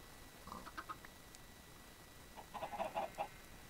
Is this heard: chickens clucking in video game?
yes